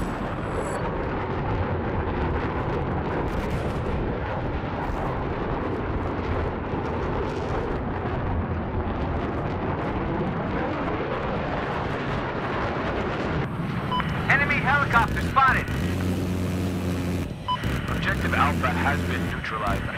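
Roaring, sustained engine rumble of an enemy jet flying over in a video game on the Hangar 21 map, heard under ongoing voice callouts, with sharp crackling bursts and a louder pass toward the end.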